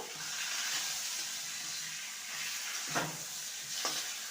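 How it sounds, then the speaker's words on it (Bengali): Flat beans and potatoes fry in a pan with a soft, even sizzle, and two brief stirring scrapes rise above it near the end. "এবারে শিমগুলো এর মধ্যে দিয়ে দেবো দু মিনিট ভেজে নেব"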